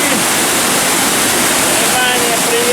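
The Shaki waterfall in Armenia roars as a dense, loud, unbroken rush of falling water, close by, with a voice faintly audible beneath it.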